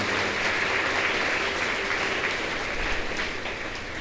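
A congregation applauds a priest and his team at a Catholic novena Mass and first Holy Communion for the Child Jesus of Carmel, with steady, moderately distant clapping that holds throughout.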